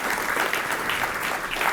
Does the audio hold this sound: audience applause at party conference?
yes